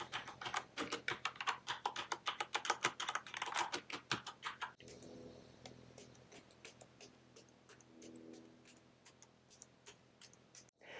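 Rapid, crisp clicking of keys being typed on an Asus ROG Strix Scar 15 (2021) laptop keyboard, a dense burst at first, then softer, sparser keystrokes over a low background hum.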